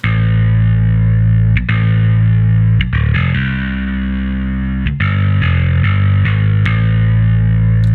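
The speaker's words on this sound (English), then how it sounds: "you're just hearing the audio loop now of this variation from EZBass above it" A solo EZBass bass loop plays alone, loud and steady, its sustained low notes shifting pitch every bar or so, colored by distortion and effects-unit processing, with no voices over it.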